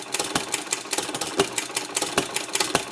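A model hit and miss stovepipe engine built by Ellis Smith runs steadily, its sharp firing pops spaced irregularly between softer mechanical clatter, close and fairly loud.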